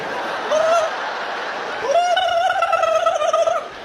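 A person imitates a turkey gobble twice at a stand-up comedy show, a short warbling call followed by a longer, wavering one, loud and close amid crowd noise.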